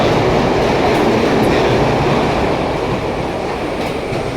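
A SEPTA Broad Ridge Spur subway train in motion, a loud steady roar of wheels and rails with a faint clickety-clack rhythm, filling the whole stretch without a break.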